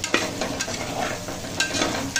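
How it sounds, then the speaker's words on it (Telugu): Diced potatoes and onions cooking on low flame in a pan for a broad bean and fenugreek potato curry, with a steady close sizzle broken by scraping stirring strokes, no voices. "ఒక 2 మినిట్స్ ఆలు ఇంకా ఉల్లిపాయలు మగ్గించుకుందాము లో ఫ్లేమ్లో"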